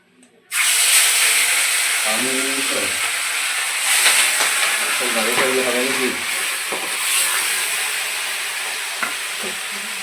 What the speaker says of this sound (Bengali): এখন মাছটা ভেজে নেবো তেল গরম হয়ে গেছে